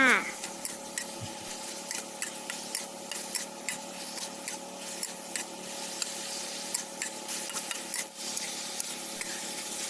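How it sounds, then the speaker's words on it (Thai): Onion stir-fried in a pan for Thai chicken basil, a steady low sizzle with soft intermittent scraping and stirring clicks throughout. "ผัดต่อนะคะเพื่อให้หอมใหญ่สุกดีค่ะ"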